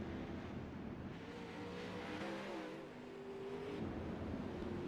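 Race cars circle steadily under a yellow flag during an online oval racing series, their engines a continuous, fairly loud drone with subtle shifting pitch and no distinct passes.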